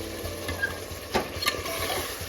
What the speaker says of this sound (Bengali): এরপর আস্তে আস্তে মাংসটাকে ভালোভাবে কষিয়ে দিতে হবে।